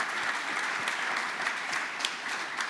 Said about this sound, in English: let's give a great round of applause to our panel